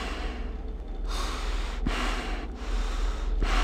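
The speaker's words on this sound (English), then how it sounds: "that breathing is so unnecessary" Heavy, slow breathing from the mask in the video game Five Nights at Freddy's 2, with three loud rasping breaths in a steady rhythm over a low hum and no speech.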